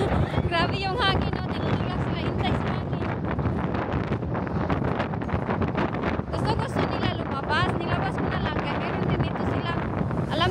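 Strong wind blowing hard across the microphone outdoors, a steady loud roar and buffeting that lasts throughout, with people's voices partly buried underneath.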